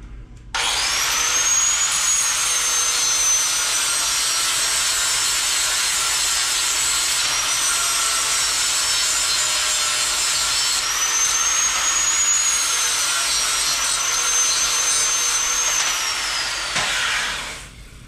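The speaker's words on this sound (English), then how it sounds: "Grinders, sand that off a little bit." A grinder sands metal on a car's side pipe, running in one continuous, loud, close-up abrasive whine for most of the stretch before shutting off.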